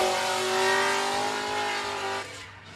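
A Formula Drift ProAm car on a qualifying run at Sebring Raceway revs hard, its loud sustained engine whine mixed with tire squeal before it drops off sharply near the end.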